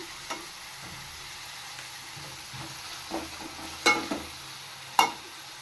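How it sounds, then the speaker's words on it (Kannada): Cabbage and other vegetables with leftover chapati noodles are stir-fried with salt, giving soft scraping and a faint sizzle, with a few sharper clinks of the spatula near the end, quiet and close. "ನೀಟಾಗಿ ಮಿಕ್ಸ್ ಮಾಡಿ ಚೆನ್ನಾಗಿ ಫ್ರೈ ಮಾಡ್ಕೋಬೇಕು"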